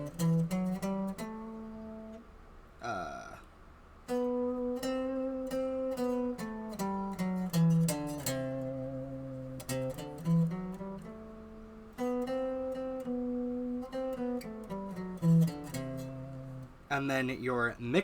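Lydian mode scale played on a plucked stringed instrument, a long string of distinct notes rising and falling with brief pauses, close and fairly quiet, with a short vocal sound partway through.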